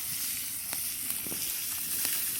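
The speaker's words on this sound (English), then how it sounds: "Now let those prawns just cook on up" Prawns fry in hot butter over a cherry-wood fire, giving a steady close sizzle with scattered small pops and crackles.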